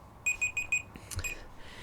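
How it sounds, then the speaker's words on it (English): A kitchen oven timer signalling that baked lasagna is done sounds four evenly spaced electronic beeps, followed by a brief clatter and one more beep, fairly close against a quiet room. "That's just my timer telling me that the lasagna is ready that I have baking in the oven."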